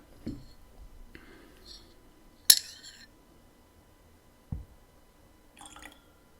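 A few small, separate drips and light clinks, with quiet gaps between them. Water is being added drop by drop to a glass of Spanish single malt whisky in a still room.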